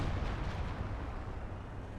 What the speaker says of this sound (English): Artillery's taking this position, which makes me think they have some type of artillery.